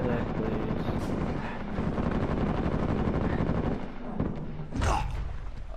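Rapid gunfire in an Uncharted 4 multiplayer match rattles in a dense, continuous stream of shots, with heavier thumps and bursts mixed in near the end.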